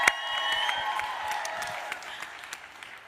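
Audience applause and light cheering, moderately quiet and fading slowly, with scattered individual claps standing out from the crowd.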